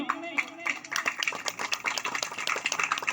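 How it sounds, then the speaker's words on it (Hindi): An audience at a program event claps in a quick, busy patter, moderately loud, with some voices mixed in. "तो तालियां होनी चाहिए कि नहीं?"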